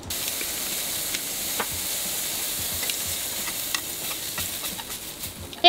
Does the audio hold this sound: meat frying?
yes